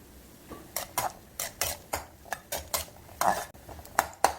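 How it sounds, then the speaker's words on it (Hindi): Cashews tossed into hot ghee in a pan for a dry-fruit besan laddu, with a spoon scraping and stirring in steady, even strokes, clinking against the pan over a faint background sizzle, close and fairly loud. "घी गरम हो गया है तो हम काजू डालेंगे"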